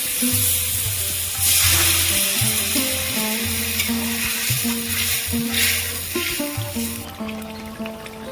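Potato and cauliflower pieces fry in a pan, giving a steady sizzling hiss that runs throughout beneath background music, with no one talking.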